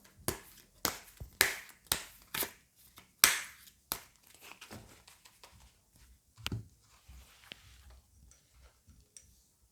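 Tarot cards are shuffled and drawn, a close, quiet series of crisp slaps and flicks in uneven bursts that thin out into soft, sparse taps.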